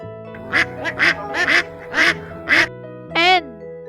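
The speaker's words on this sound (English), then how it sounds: "Mandarin duck." A mandarin duck quacks six times in a loud, evenly spaced run, each call short and nasal, with gentle music playing underneath and a final drawn-out squawk.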